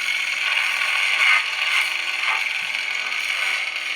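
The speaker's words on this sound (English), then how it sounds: "It's the Fracture sound font, so it resembles Kylo Ren." A Scion Neopixel smart lightsaber from Electrum Sabercrafts running the Fracture sound font hums with an unstable, crackling Kylo Ren-style blade, a continuous gritty buzz that swells and wavers slightly, with no talk.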